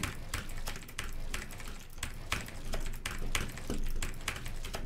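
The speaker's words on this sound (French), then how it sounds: "C'était mon premier clavier mécanique en fait, mon tout premier. Vous pouvez juste écouter le bruit." Rapid clacky keystrokes from a mechanical keyboard tap out a continuous, uneven rhythm, close and moderately quiet, with no talking.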